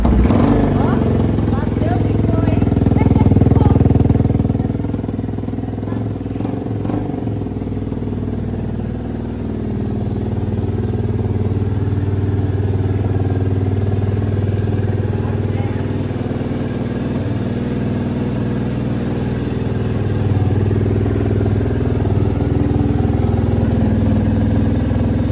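A motorcycle fitted with an aftermarket GRS exhaust idles and runs with a steady low rumble and some mechanical clatter, loud and close, while a person talks over it.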